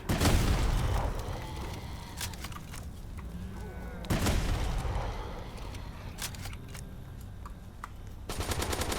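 In a Roblox zombie-attack game on a hard mode, bazooka shots boom with dense bursts of gunfire and explosions throughout. Two large blasts land a few seconds apart, with the player's voice occasionally heard underneath.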